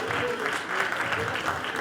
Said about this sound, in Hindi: इनके लिए तालियां बजाइए भाई साहब को